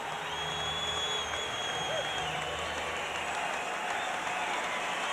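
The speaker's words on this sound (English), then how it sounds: "an enthusiastic crowd" A large crowd at the 1989 Memorial Cup junior hockey final between Saskatoon and Swift Current at Saskatchewan Place applauds and cheers steadily, a dense sustained roar with a faint whistle drifting through.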